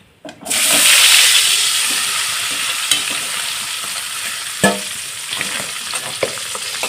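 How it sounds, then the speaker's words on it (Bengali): A rohu fish head fries in hot oil, a loud, steady close-up sizzle that starts after a short pause and keeps going, with a few sharp clicks from a utensil against the pan. "এই রুই মাছের মাথাটা আমি ভালোভাবে ভেজে নেব"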